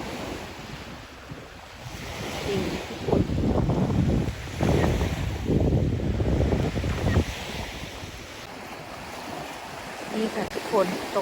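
Sea waves wash onto an empty beach with orange-red tinted water, a steady surf roar swelling and falling, buffeted by wind noise on the microphone.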